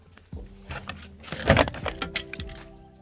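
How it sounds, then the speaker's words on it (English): Trim being prised off a Nissan Patrol car door, heard as a few close clicks, clunks and plasticky rattles with a louder snap in the middle, over about three seconds. "the door trim should come off with a bit of a wiggle"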